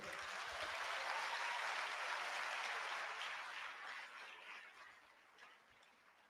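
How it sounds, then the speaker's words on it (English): Audience applause at an induction ceremony for newly qualified medical and dental practitioners, a broad hall full of clapping that holds steady then gradually fades away, heard at moderate distance. "Can we give them a big applause?"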